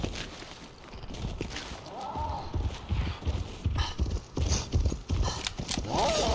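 Horse hooves clip-clop steadily in Fortnite Chapter 3 Season 3, a rapid, continuous trotting rhythm with an occasional whinny, heard over a busy game soundscape and a voice talking.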